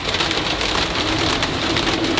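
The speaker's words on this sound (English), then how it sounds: "it's hailing, guys." Hail pelts a car in a dense, loud, continuous clatter that fills the whole moment, steady without pause.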